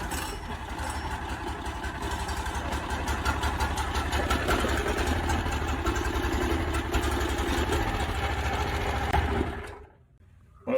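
A gas pressure washer engine runs on choke with a steady, buzzy idle, loud and close, holding an even pulsing drone for about nine seconds before it stalls and falls silent.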